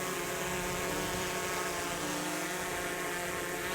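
DJI Mavic 3 drone flying over the White River Narrows in Nevada, a steady continuous propeller whine and buzz with stable tonal hum, held at an even level throughout with no talk.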